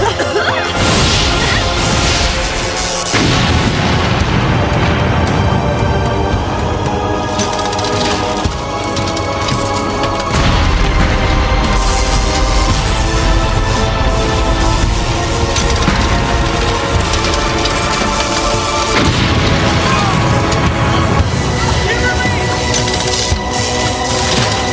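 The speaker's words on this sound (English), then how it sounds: "the command center begins to blow up" Crashing, smashing blasts as the Power Rangers command center blows up, one loud impact after another in a dense, continuous barrage with whooshes and debris, no talking.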